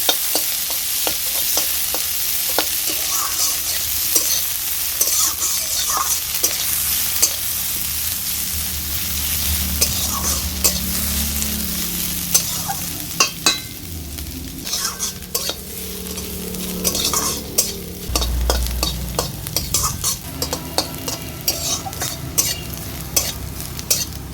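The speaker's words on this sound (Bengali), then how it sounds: "ভালো করে পেঁয়াজটাকে এবার ভাজাভাজি করে নেব।" Chopped onion and crushed garlic sizzle steadily in hot oil in a pan, with repeated scraping stirs of a spatula and occasional clinks against the pan, close and continuous.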